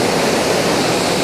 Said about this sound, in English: We've got the two waterfalls coming down,